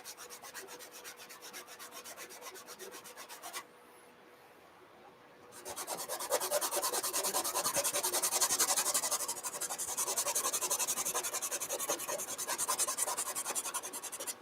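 A worn 80 grit sanding block is rubbed back and forth across a wooden Royal Game of Ur board in fast, close rasping strokes. The sound stops briefly, then resumes louder and steadier.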